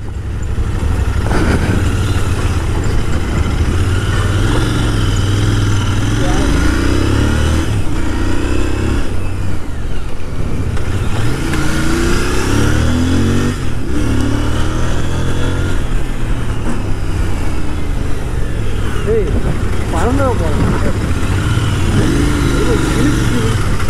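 Royal Enfield GT 650 motorcycle engine revving and pulling hard under acceleration, loud and close throughout, with a rider talking over the rumble.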